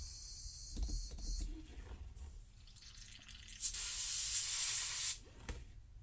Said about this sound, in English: gonna clean out that color out of the airbrush